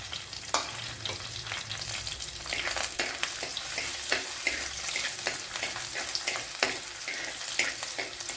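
Garlic, ginger and green chillies fry in a pan for a dry fish curry, a dense crackling sizzle with frequent scraping stirs, close and steady throughout with no voices.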